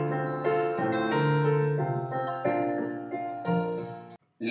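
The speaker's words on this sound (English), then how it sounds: "Then you hear the guitar and then also a little bit of that piano loop as well" Guitar layered with a piano loop in a self-produced song, sustained harmonic chords shifting every half second or so in a steady pattern, close and full, cutting briefly to silence near the end.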